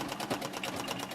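A treadle sewing machine runs steadily, its rapid needle chatter repeating in an even mechanical rhythm, close and moderately loud with no talking.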